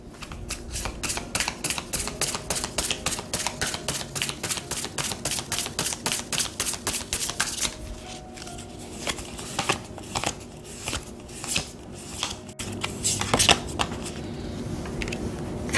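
Tarot cards are shuffled in a rapid, crisp riffling run of evenly spaced flicks, then handled more loosely with scattered taps, slides and snaps, close and fairly quiet.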